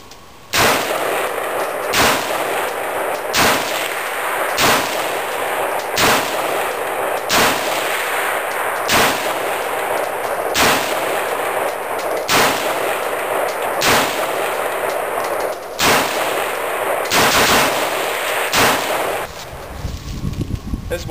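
An AR-15 rifle fires about nine loud, sharp shots in a steady rhythm roughly two seconds apart, each with a booming tail. No one speaks.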